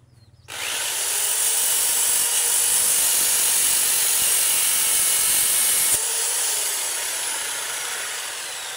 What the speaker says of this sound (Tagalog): Nasira nga pala yung ating isang grinder, kaya nirekta ko na dito.